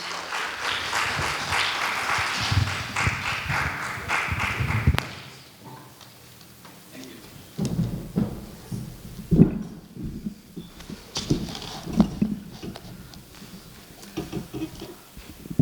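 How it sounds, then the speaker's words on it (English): Applause from an audience at a medical talk as Dr. P N Kadam is welcomed on stage, dense clapping for about five seconds, then scattered, thinning claps and faint stirrings. "let's give a big round of applause and welcome Dr."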